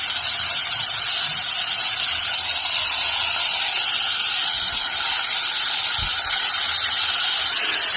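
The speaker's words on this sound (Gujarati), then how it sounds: "હવે ઘી ગરમ થાય એટલે આપણે જીરાનો વઘાર કરીશું." Cumin seeds tempering in hot ghee for mung-masoor dal give a steady, loud crackling hiss that fills the pan and holds evenly throughout, with no talk.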